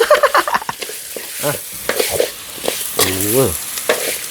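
Herbal chicken being stir-fried with oyster sauce in a pan, with scraping and stirring over a crackling sizzle, broken by short voiced sounds and someone talking.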